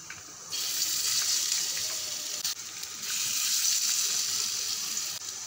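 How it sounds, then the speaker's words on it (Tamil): Banana flower vadai fry in hot oil with a bright, steady hiss and crackle that starts abruptly and holds fairly loud, with a couple of brief dips and no speech. "இப்போ ஆயில் காஞ்சிருச்சு, மெதுவாக ஒவ்வொன்றா போட்டுக்கோங்க."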